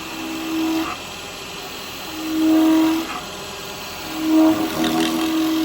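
Wood lathe spins a spinning-top blank while carbide tools cut it, a steady hum punctuated by a few slightly louder scraping passes and faint vibration.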